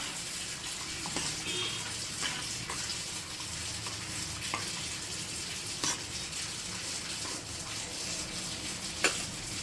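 Milk with sugar and vermicelli being stirred in a pot, a steady wet swishing with occasional light clinks of the spoon, close and continuous.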